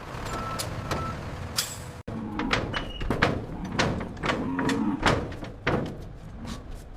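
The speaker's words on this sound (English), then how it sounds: "Truck 7 is approaching the receiving bay." A truck pulls into a receiving bay at a cattle processing plant. Reversing beeps repeat in a rhythm, with hisses of air brakes, a sharp door clunk and mechanical clatter, all fairly close.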